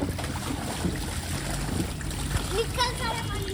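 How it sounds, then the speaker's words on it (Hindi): Water splashes and sloshes as an inflatable swimming pool at home is drained, with irregular splashing under children's chatter and speech throughout. "मैंने पूरा पानी बाहर निकाल दिया।"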